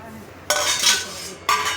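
Two sharp metallic clinks of a spoon against dishes at a home meal, the second coming about a second after the first, close and crisp.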